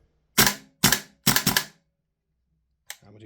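Tokyo Marui AKM gas blowback airsoft rifle fitted with a 130% recoil spring, fired on semi-auto: four sharp, close, loud cracks in quick succession, the last two nearly doubled, then a fainter fifth shot after a pause.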